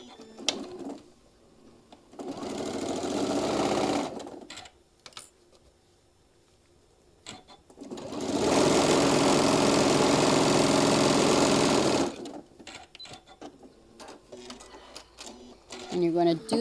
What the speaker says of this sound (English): we're going to stitch all the way down 1/4 of an inch